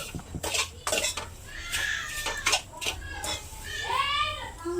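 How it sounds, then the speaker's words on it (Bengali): Lachha vermicelli frying in ghee in a pan, heard as utensil scrapes and clinks against the pan over a soft sizzle, with a few brief sharper knocks. "ঘি দিয়ে সুন্দর করে আমি সিমুইটাকে এখন ভাজছি"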